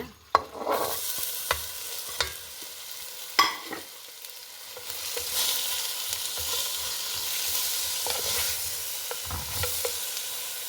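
Fresh spinach stirred and frying in a tablespoon of ghee in a pan for palak curry: a steady close sizzle with repeated spoon scrapes and clatters against the pan, no talking.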